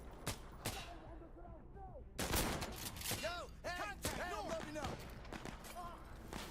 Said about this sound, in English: No, that sounds like explosive mortars.